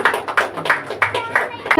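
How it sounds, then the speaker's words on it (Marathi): Audience applause at a medical camp event, a short burst of clapping with uneven rhythmic peaks, fairly close and moderately loud, lasting under two seconds. "जोरदार टाळ्या होऊन जाऊ दे."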